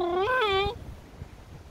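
A cat gives one clear, close meow with a rising then falling pitch, loud against a quiet outdoor terrace, followed by faint background noise.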